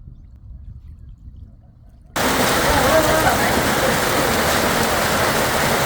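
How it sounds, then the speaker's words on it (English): Heavy tropical rain in Guyana, arriving abruptly after a quiet stretch and then holding as a loud, dense, unbroken roar. "It's heavy rain."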